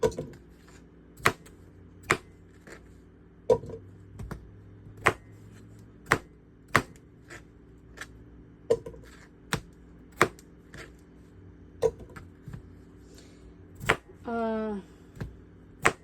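A knife chops food on a cutting board in slow, evenly spaced sharp knocks, about a dozen strokes, close and crisp, with a short spoken murmur near the end.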